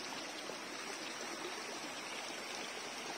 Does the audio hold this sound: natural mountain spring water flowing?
yes